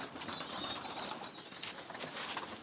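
Young and breeder pigeons in a loft stir after feeding, with faint cooing, chirps and bursts of wing flapping making a low continuous racket.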